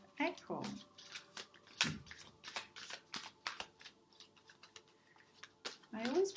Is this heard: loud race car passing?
no